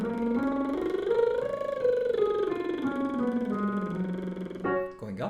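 Lip trills sung up and down a one-and-a-half-octave scale, a single voice buzzing steadily as the pitch climbs and then glides back down, close and clear, ending with a brief breath.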